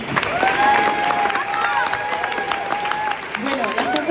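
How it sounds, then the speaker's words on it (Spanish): Applause from a studio audience at a football interview with Dani Carvajal, a dense patter of claps with voices and cheering running over it and holding steady for about four seconds. "Un aplauso."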